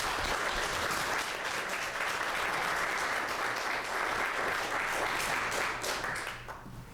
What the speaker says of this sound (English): give them a round of applause for that as well